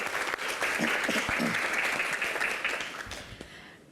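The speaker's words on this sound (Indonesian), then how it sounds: "Wah, tepuk tangan yang paling meriah." Lively applause from an audience greeting a guest at a political Q&A event for Timnas AMIN, steady and dense throughout before tapering off near the end, with a faint voice underneath.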